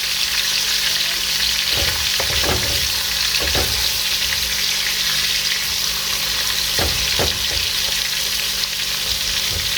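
Beef shanks for osso buco sear in a pan over high heat, a steady loud sizzle and frying hiss running throughout, with a few scraping knocks as the pieces are flipped partway through.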